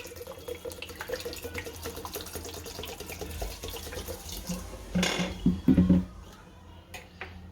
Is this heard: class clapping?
no